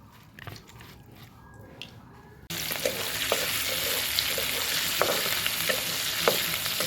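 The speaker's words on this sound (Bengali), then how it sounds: "তাহলে এবার এই মাছগুলো ভেজে নিই সুন্দর করে" Prawns frying in oil on an earthen stove. It begins fairly quiet with a few faint knocks, then a loud, sustained sizzle breaks out and continues, with sharp spatter pops and stirring clicks.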